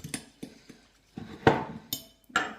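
Couscous being mixed with seasoning and hot water in a bowl, heard as a handful of close, sharp clinks and scrapes of a utensil against the dish, spaced irregularly with quiet gaps between.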